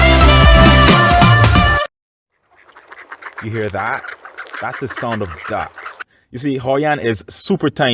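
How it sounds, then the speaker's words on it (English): Ducks quack in the countryside around Hoi An, Vietnam, a burst of calls in the middle distance after a stretch of music and a short silence, with a person talking over them. "That's the sound of ducks."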